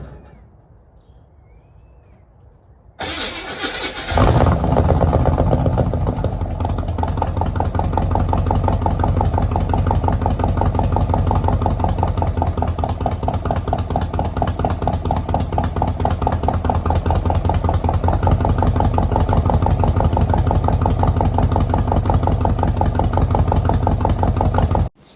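A Chevrolet Nova SS engine cranks and fires after a quiet start, then runs loud and steady at close range for over twenty seconds. It idles roughly, with an uneven throb, then cuts off abruptly at the end.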